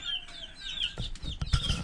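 A speckled Sussex hen and a black copper Maran rooster cluck softly and briefly, a few short bursts of close fowl noises with some low thumps near the end.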